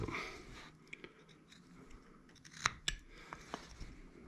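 Several short, sharp scraping cuts of a knife carving into a chunk of wood while whittling a face, sparse and close, with quiet gaps between strokes.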